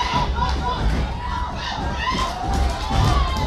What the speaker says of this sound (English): The crowd is really excited.